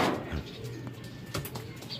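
Homing pigeons arriving back at their loft after a race from Tacloban, Leyte, with soft cooing and bird calls and a few faint knocks and rustles close by over steady background noise.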